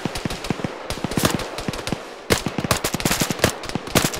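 Two sustained bursts of rapid machine gun fire from an ArmA 3 Vietnam-era battle, sharp repeated cracks with a brief pause between volleys, loud and close with no talking.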